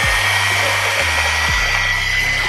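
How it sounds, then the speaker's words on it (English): Electric mixer on low speed whisking butter into dry ingredients, a steady close whirring hum with a shifting low pitch that dips and settles as the beaters work. "you're gonna whisk it on low"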